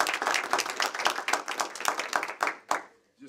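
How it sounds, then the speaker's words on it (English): Audience applause at a community school board meeting: a burst of clapping from the room, individual claps audible, lasting about three seconds before tapering off to a couple of final claps. "We're going to extend the applause more than 2 claps."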